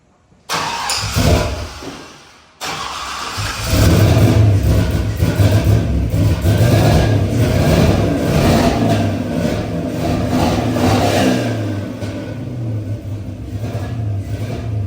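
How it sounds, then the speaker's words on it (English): A 6.0 LS V8 being installed in a vehicle cranks briefly, catches, and then runs loud and steady through its normal exhaust with rough revving, heard up close. "Okay, we're going to turn it over again. Now it's going to run through the normal exhaust."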